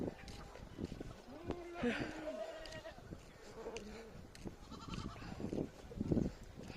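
Goats bleat several times at close range, their wavering calls mixed with background voices and outdoor farmyard noise.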